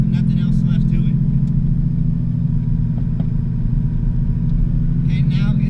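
A manual transmission car drives along with a loud, steady, close engine rumble and a low drone throughout, while a voice talks over it.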